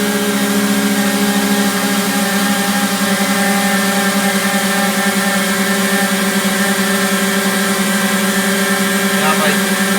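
A V2010 pump runs under load with its front section engaged, giving a loud, steady engine-driven drone with a constant mechanical hum that holds unbroken for the whole stretch.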